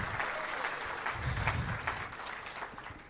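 An audience at an Axian Telecom corporate event breaks into applause, a continuous crowd clapping at moderate loudness that tapers slightly toward the end.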